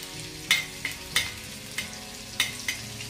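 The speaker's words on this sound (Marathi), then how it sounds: "असं मध्यम आचेवर आपल्याला याला मस्त फ्राय करायचं" Garlic and ginger frying in a ladle of oil in an iron pan over medium heat, a soft steady sizzle broken by several sharp scraping stirs, close and fairly quiet, without talk.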